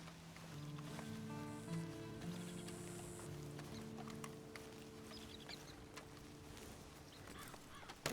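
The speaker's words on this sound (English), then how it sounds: "And you better get on this horse." Steady horse hooves clip-clop at a walking pace in Red Dead Redemption 2, fairly close, over a faint ambient background with a sustained tonal drone.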